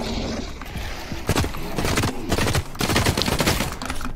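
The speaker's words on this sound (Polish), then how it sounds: "Strzelam mu w plery." Gunfire in The Cycle: Frontier video game comes as a rapid burst of sharp, loud shots in uneven clusters, close and punchy, with a few gaps between volleys.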